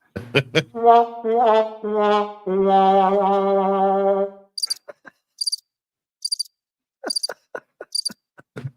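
A crickets chirping sound effect, played as short, sharp, high-pitched chirp bursts repeated several times in the second half. Low clicks sit between the bursts, and a sustained tonal sound comes before them.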